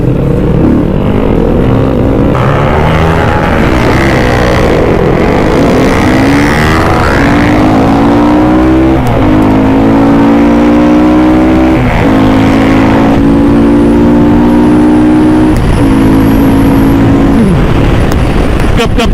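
A Yamaha Exciter motorcycle engine holds a loud, steady drone at high revs in fifth gear, pitch climbing through short upshifts before settling at speed, with heavy wind roar throughout.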